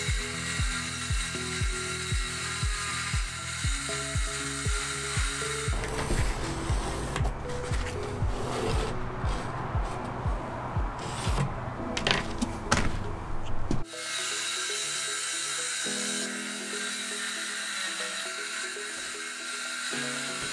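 A power saw cuts a plywood side piece for a drawer, starting with rhythmic mechanical clicks and then a loud, harsh cutting whine for several seconds before stopping, followed by quieter handling noises.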